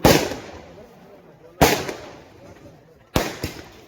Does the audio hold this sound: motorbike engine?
no